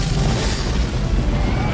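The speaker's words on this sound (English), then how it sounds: "Call in the airstrike!" A deep, rumbling airstrike blast in Swords and Sandals: Crusader, one loud sustained boom with crashing debris that fills the whole moment without any talk.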